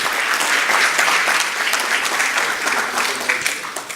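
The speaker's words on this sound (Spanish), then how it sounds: "aplauso, por favor." Steady applause from an audience welcoming a geosciences master's student to a lecture, dense and sustained throughout at close range, with no distinct voices rising above it.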